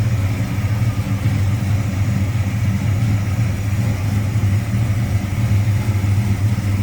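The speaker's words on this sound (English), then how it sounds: "Smooth running 340. Sounds good." A 1973 Plymouth Duster with its 340 V8 idles smoothly and steadily close by, a continuous low rumble with no revving and no voices.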